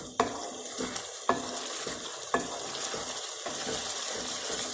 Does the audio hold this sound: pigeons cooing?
no